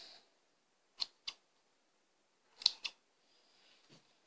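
Scissors snip the hair of a small polymer clay figure: a handful of crisp, close cuts, some in quick pairs, separated by near silence.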